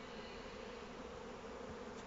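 Honey bees buzz at an open hive during a honey harvest, a continuous low droning hum from many insects close by, steady and unbroken with no voices.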